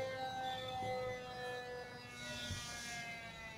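Small homemade DC motor air pump running, a steady faint whine with sustained tonal hum, continuous and without talk.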